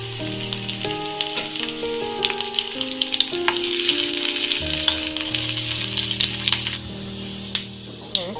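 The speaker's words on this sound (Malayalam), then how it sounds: "കടുക് വറുത്ത് ഒഴിക്കുകയാണ്" Mustard seeds crackle and sizzle in hot oil for a coconut-ground sambar tempering, a dense, continuous frying hiss with faint popping, heard over soft tonal background music.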